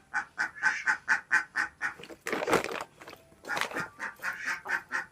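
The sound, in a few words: chickens and ducks in a village yard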